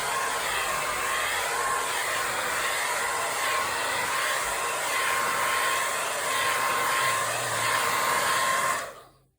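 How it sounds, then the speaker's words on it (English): A hair dryer blows steadily on a painting in progress, a loud continuous whooshing roar with a faint whine that holds for about nine seconds before cutting off abruptly. "Now, Mr. Hairdryer comes out."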